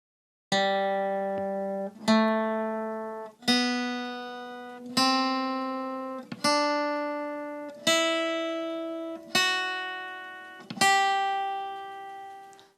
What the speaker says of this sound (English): Here's what the entire scale fragment sounds like when played on guitar.